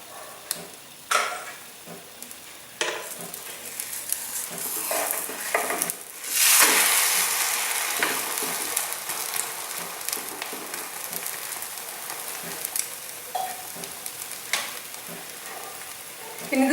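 An omelette cooks in a pan over a medium flame, giving a steady, close sizzle with a brief louder surge partway through and a few soft clinks of utensils.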